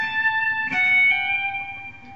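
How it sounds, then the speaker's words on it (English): Guitar notes from Pachelbel's Canon in D, a short run of sustained tones with one bright attack partway through, clear and close with no voices. "Our first grouping of notes are two triplets using 16th and 32nds."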